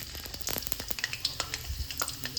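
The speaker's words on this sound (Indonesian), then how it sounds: "Kita goreng sekarang." Small cut potatoes fry in hot, smoking oil, giving a dense, continuous sizzle with crackling pops scattered throughout, heard close and fairly loud with no talking.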